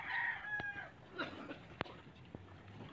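A rooster crows somewhat faintly in the distance near Taal Volcano, followed by a few sharp clicks and knocks against a quiet background.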